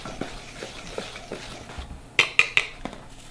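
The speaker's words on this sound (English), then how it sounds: "So that's all you need, and we're gonna whisk it together." Baking soda and dry brownie ingredients are whisked in a bowl, giving soft rhythmic taps that turn into a few sharper metallic clinks against the bowl near the end.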